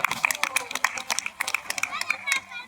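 Zoo audience clapping after an animal demonstration, a loose burst of hand claps in irregular clusters with children's voices mixed in nearby.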